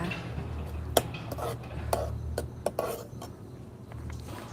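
Coarsely chopped ginger and a little salt going into a pot of rice porridge, with scattered metallic clinks of a spoon against the pot over a low kitchen background hum.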